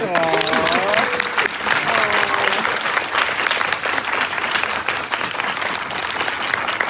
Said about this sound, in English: give me just 5 seconds of applause for the person who changed me